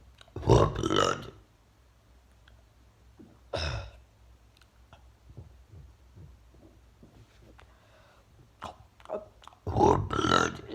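A person burps loudly while trying to say a phrase, with a long belch at the start, another at about 3.5 seconds and a final loud one near the end, separated by quieter gaps.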